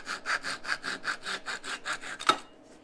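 A Japanese pull saw cuts through wood in about nine steady, rhythmic rasping strokes, close and clear, ending with a final louder stroke and then quiet.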